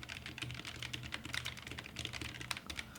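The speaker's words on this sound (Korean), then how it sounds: "아이패드에서 기계식 키보드로 타이핑하니까 진짜 죽인다 맛이." Someone types on a foldable mechanical keyboard paired with an iPad, a quiet, continuous run of close clicky keystrokes with no talk.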